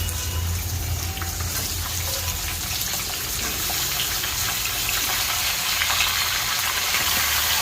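Washed chicken pieces hitting a pan of fried onions, giving a loud, dense, continuous sizzle and steamy hiss that holds steady throughout.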